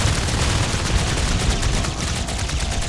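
Dense, continuous shotgun fire in the video game Natural Selection 2, loud blasts overlapping into a steady roar of gunfire and impacts inside a vent.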